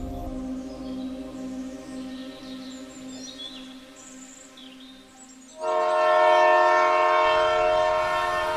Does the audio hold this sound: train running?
yes